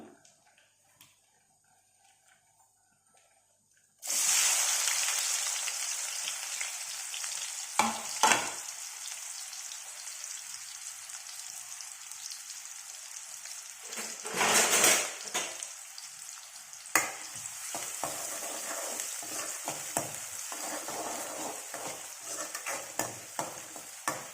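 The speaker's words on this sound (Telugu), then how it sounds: "ఇప్పుడు ఆయిల్ కాగింది ఇందులో ఆనియన్స్ వేసుకుందాం" Sliced onions drop into hot oil in a pan for egg curry. Silence gives way to a sudden loud, steady sizzle that carries on close by, broken by occasional stirring scrapes.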